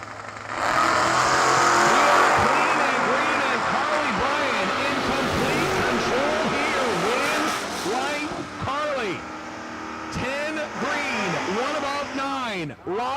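Drag racing pair at the line: a big-block 1970 Nova in the left lane and a 1983 Camaro, engines loud and revving hard through launch with repeated rising roars, an announcer talking over the engine noise throughout.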